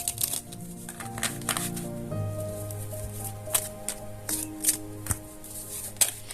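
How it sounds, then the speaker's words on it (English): Tarot cards being shuffled by hand, a run of soft riffling taps and crisp flicks with a few sharper snaps, close and alone under a faint background of music. "Another shuffle, they say."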